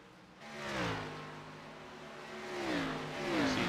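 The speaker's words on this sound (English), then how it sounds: "Nice looking race car too." Race cars on the track at Charlotte during an ARCS Ignition race, engines rising and falling in pitch as cars rev and pass at moderate distance, building in loudness twice.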